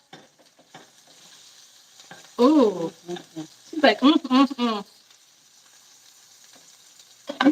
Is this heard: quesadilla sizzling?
yes